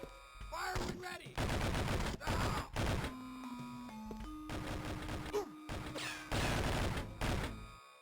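Gunfire from 007: Nightfire on the Game Boy Advance: repeated bursts of sharp shots spread through the clip, loud and close, alongside tonal game music and beeping effects.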